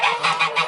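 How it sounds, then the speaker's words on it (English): Geese honking loudly inside a crowded farm barn, four close, repeated bursts of harsh calls in quick succession with no talk. "Oh, it's just so loud in there. Those geese are crazy."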